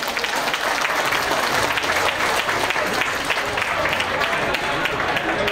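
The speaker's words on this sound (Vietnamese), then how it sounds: "chúng ta một tràng pháo tay để chúc mừng ba cha một lần nữa" Loud, continuous crowd applause at a church farewell party, dense clapping throughout with voices and murmur from the gathering mixed in.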